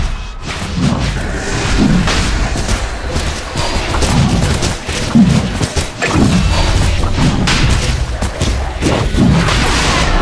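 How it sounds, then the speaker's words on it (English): A tower comes under attack in a Dota 2 match, with repeated heavy booms and thuds striking every second or so amid a busy clash of battle effects, loud and continuous. "Radiant's bottom tower is under attack"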